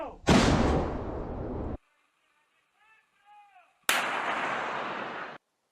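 Russian artillery pounding Ukrainian brigade fortifications: two loud, roaring blasts with sustained rumble, each cut off abruptly, separated by a short pause holding faint voices.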